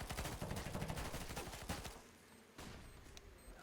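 Dense bursts of rapid gunfire from a round of CS:GO, including AK rifle shots, crackling loudly for about two seconds, then sparser single shots and softer in-game ambience with no talking.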